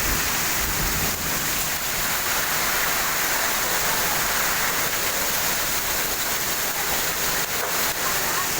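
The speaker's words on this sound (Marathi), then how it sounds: "तुफान पाऊस पडत आहे." Heavy unseasonal rain pours in a dense, constant rush during a strong windstorm in Dharashiv district, loud and unbroken throughout, with no voices.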